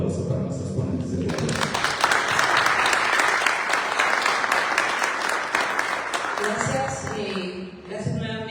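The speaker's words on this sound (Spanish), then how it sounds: "les pido por favor un fuerte aplauso para nuestros ponentes del día" Audience applause for the day's speakers at a book translation presentation, a steady dense wash of many hands clapping that swells and then fades, with voices starting up near the end.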